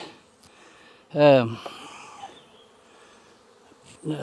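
Honeybees in a hive give a loud, brief buzzing burst, then a fainter hum, with another short buzz rising at the end.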